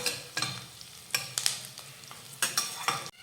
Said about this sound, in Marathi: दोन हिरव्या मिरच्या बारीक चिरून घेतलेल्या आहेत त्या घालूयात आणि ह्या कांद्यासोबत मिरची परतून घेऊयात